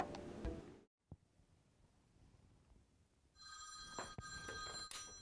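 A telephone rings with a steady electronic trill that starts partway through and carries on to the end, heard indoors at moderate volume after a short quiet stretch.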